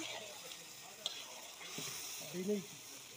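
Meat with ground cumin, chili and coriander sizzles in a pan while being stirred, a steady frying crackle with a few scraping sounds.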